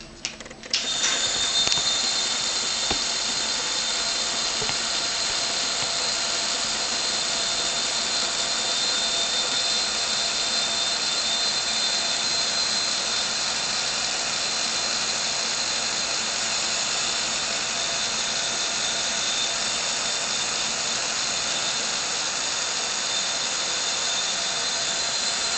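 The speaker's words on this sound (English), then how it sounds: "We're going to use a heat gun, which is pretty loud." A heat gun blasts steadily for heat embossing, a loud, close, continuous hiss and high whine that holds without pause for about twenty-five seconds after a sharp click at the start.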